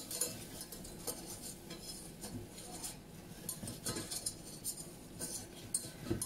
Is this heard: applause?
no